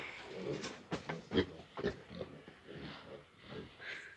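Piglets grunt and snort in a sunny, hot pen, a series of short rough grunts at close range repeating irregularly throughout without any talk.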